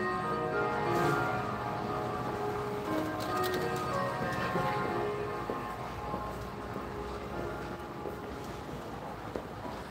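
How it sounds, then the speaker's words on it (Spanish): Church bells ring out in overlapping, sustained tones amid busy outdoor ambience at the cathedral in St. Gallen, Switzerland, a dense metallic chiming that lingers throughout. "escuchar las campanas"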